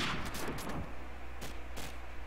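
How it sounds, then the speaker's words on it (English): Gunfire in Call of Duty 4 during a competitive match: a quick burst of shots at the start followed by a couple of isolated sharp reports over steady background game noise. "he's shooting off some bullets to the catwalk area"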